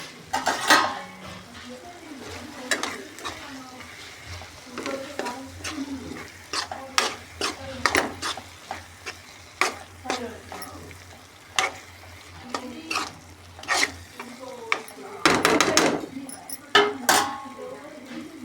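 A spoon stirs masala with chilli powder in a hot frying pan, sizzling steadily while the utensil scrapes and knocks against the metal in irregular, close clatters. Brief speech is mixed in.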